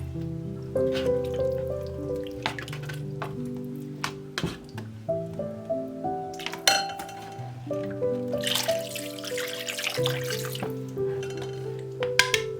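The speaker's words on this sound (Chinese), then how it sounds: "倒入凉水，淹没排骨" Cold water is poured into a pot over pork ribs, a steady splashing pour with dripping under background music.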